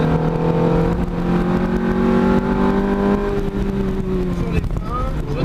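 A Ferrari picks up speed again after braking, its engine note climbing in steady tones close by, with someone talking over it.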